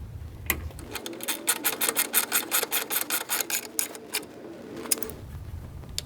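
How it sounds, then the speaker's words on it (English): A ratchet and wrench on a 13 mm socket tightening the lower nut of a sway bar end link on a Volkswagen MK7 GTI rear sway bar, giving about four seconds of rapid, even ratcheting clicks at close range, with no talk. "we're going to take a 13 millimeter socket and a wrench, and we're going to tighten this lower portion down"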